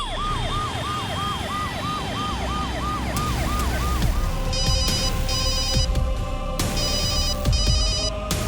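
A telephone rings unanswered in repeated electronic bursts with pauses between them, starting after a wailing siren fades out, near and fairly loud, with no voices.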